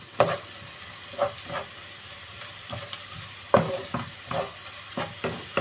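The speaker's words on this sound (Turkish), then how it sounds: "unun kokusu çıkana kadar kavuruyorum" A spoon stirs flour toasting in a pot for Turkish chicken vermicelli soup, making a steady quiet sizzle broken by a series of scraping knocks against the pot, close by, with no voices.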